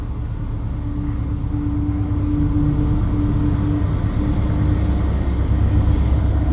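A Union Pacific freight train hauled by four locomotives rolls past near a Cheyenne yard, a steady, loud rumble of engines and wheels with a sustained tonal hum and faint high squeal throughout.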